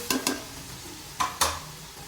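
Chopped tomatoes tumble into a frying pan of cooked-down masala with yogurt for black chickpea pulao, a few short rustling thumps and stirring scrapes over a soft sizzle, close by with no talk.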